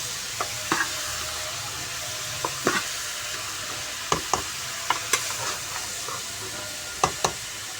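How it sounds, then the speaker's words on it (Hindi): Turnips and peas frying in a pan for a Pakistani-style shalgam matar dish, with a steady sizzle under repeated sharp clinks and scrapes of a spoon stirring against the pan, close up, no talking. "तब इसकी अच्छे तरीके से हमने बुनाई करनी है दोनों चीज़ों की।"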